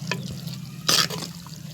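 Water is stirred into vaseti greens cooking in a pan, with a soft steady sizzle and a burst of sloshing and splashing midway.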